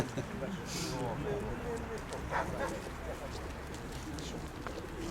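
Pigeons coo at a bustling market fair in Pavlohrad, their low calls blending into dense crowd chatter, with a dog barking now and then.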